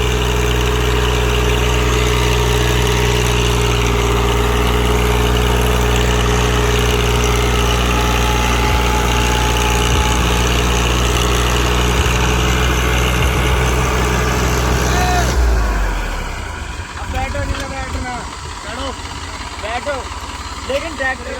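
A Massey tractor engine runs loud and close in a steady low rumble for about fifteen seconds before it cuts to a quieter, rougher tone, while people talk over it.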